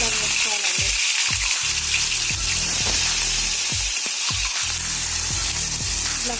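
Cut brinjal pieces dropped into hot oil with urad dal, chana dal, mustard seeds and cumin, giving a loud, steady sizzle up close with repeated bumps and scrapes of stirring.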